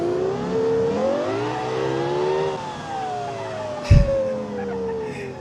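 A 1200-horsepower custom V12 car in BeamNG.drive, with a hippie-bus body and a big wing, holds a loud sustained engine note that rises and falls smoothly, with a brief thump near the end.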